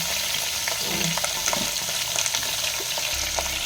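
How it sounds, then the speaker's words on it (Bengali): Mixed vegetables frying in a pan with salt and turmeric, giving a steady close sizzle with light stirring clicks and scrapes throughout, no talking. "এখানে সব সবজিগুলো আমি ভালো করে ফ্রাই করে নিই, একটু এর মধ্যে লবণ আর হলুদ দিয়ে দিই।"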